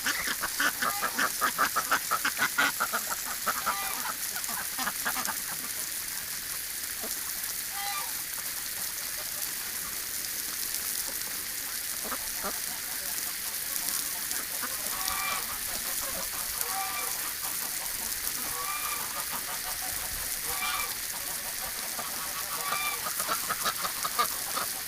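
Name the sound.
ducks and geese calling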